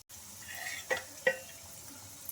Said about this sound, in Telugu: మీడియం టు లో ఫ్లేమ్లో అడ్జస్ట్మెంట్ చేసుకుంటూ బాగా క్రిస్పీగా ఫ్రై చేసుకోవాలి